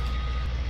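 A truck in Farming Simulator 19 sounds its reversing beeper, a steady electronic tone over a low engine rumble. It is close and clear and lasts under a second, with no talk.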